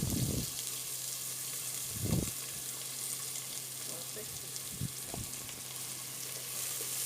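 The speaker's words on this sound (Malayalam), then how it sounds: "നമുക്ക് സ്ലൈസ് ചെയ്ത് വെച്ച ഒനിയൻ അതിലേക്ക് ഇട്ട് കൊടുക്കാം." Sliced onion dropped into hot oil, frying with a continuous soft sizzle, broken by a few short low knocks and stirring sounds along the way.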